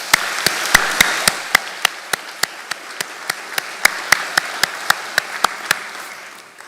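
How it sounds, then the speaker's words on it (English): Applause fills a medical school commencement ceremony, a steady wash of clapping from a large audience with a few sharp, regular loud claps standing out near the microphone throughout. "Please join me in a warm round of applause for these individuals"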